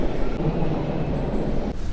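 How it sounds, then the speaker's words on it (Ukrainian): A subway metro train arrives at a station with a loud, steady rumble and rattling roar that fills the whole stretch and eases slightly near the end. "це моє метро, чи воно їжджає? Воно їжджає."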